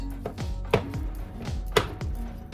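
Meat for homemade spaghetti sauce chopped and broken up in a pan, a steady series of dull knocking strikes at a regular rhythm, fairly close, with two sharper hits standing out.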